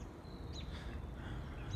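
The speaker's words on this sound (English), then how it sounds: "And probably can hear the birds also" A few faint bird chirps ring out in the distance over a soft background hiss.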